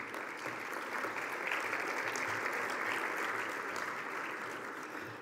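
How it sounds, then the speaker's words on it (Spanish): An audience at a municipal inclusion award ceremony in Ahome, Sinaloa claps steadily, a dense, even wash of many hands sustained throughout without talk. "Un aplauso, por favor."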